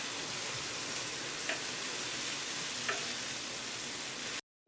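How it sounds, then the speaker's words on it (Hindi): Cauliflower stirred into masala in a pan for Pakistani aloo gobi, giving an even, soft sizzle throughout with a couple of faint scraping knocks from the spoon before it cuts to silence at the very end. "अब हम सारी गोभी एहतियात से इसके अंदर डाल देंगे।"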